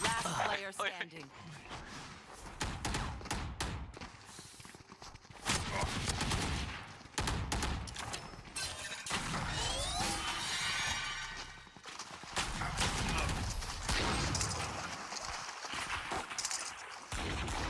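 Shotgun blasts and rapid gunfire in the tactical shooter Valorant, dense and loud with shattering impacts throughout, mixed under excited players' voices talking over the action.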